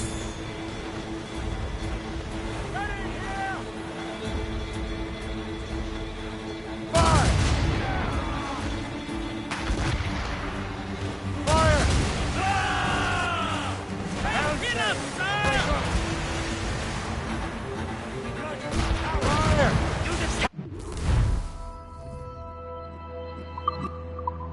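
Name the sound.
ship cannons firing in Assassin's Creed Rogue video game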